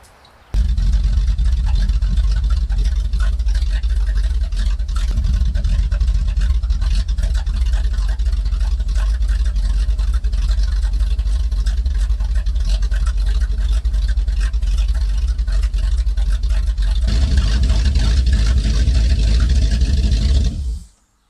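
1968 Pontiac ambulance V8 fires on a cold start and runs for about twenty seconds, a loud, steady, rough rumble with a raised rev near the end before it shuts off.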